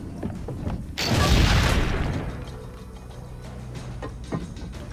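A cannon fires in the video game Assassin's Creed Brotherhood, giving one loud, close boom that decays over about a second into faint mechanical clicks and background rumble.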